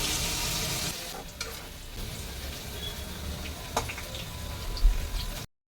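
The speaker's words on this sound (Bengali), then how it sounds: "এই যে ভালো করে আমি ফ্রাই করে নিচ্ছি, অল্প লালচে করে।" Potato pieces frying in oil with turmeric in a pan, giving a continuous close sizzle with occasional clicks and stirring knocks, then stopping abruptly at the end.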